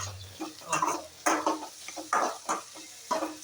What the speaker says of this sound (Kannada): ಸೊ 4 ಮೆಣಸಿನ್ಕಾಯಿ ಹಾಕೊಳ್ಳಿ. ಒಗ್ಗರಣೆಗೆ ಹಾಕೊಂಡು